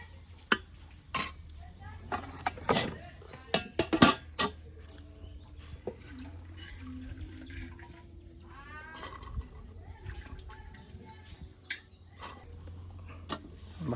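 Spices and spice paste stirred and fried in a pan for a Bengali dried-fish dish, with scattered sharp scraping and clinking of a utensil against the pan over a low sizzle, fairly faint and irregular.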